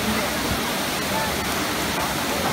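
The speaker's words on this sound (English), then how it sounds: "At the Trevi Fountain for good luck." Water rushing and splashing at the Trevi Fountain in Rome, a steady broadband roar that runs unbroken throughout, with faint voices in the background.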